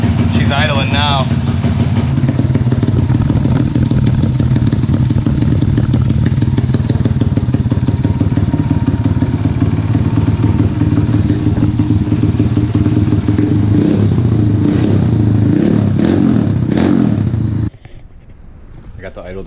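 A motorcycle engine, freshly kickstarted, idles loudly and steadily up close, a rapid chugging rumble that cuts out near the end.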